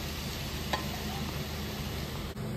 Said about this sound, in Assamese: আৰু গুড়ি কৰি লোৱা নাৰিকলৰ মিশ্ৰণখিনি এতিয়া মই কেৰাহীত দি ভাজি আছোঁ আৰু ইয়াৰ লগত পৰিমাণ অনুসাৰে চেনি দি লৰাই আছোঁ